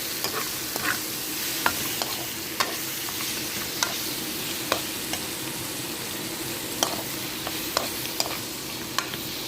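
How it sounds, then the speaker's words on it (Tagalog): Tomatoes and chicken are stirred in a frying pan. A steady sizzle runs throughout, and frequent sharp clicks and scrapes of the spatula against the pan come at an irregular rhythm. "Haluin lang yung kamatis guys ha"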